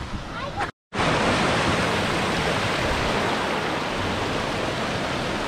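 A waterfall roars in a dry, smoke-hazed canyon, a dense continuous rush that stays loud and close throughout, broken only by a split-second gap near the start.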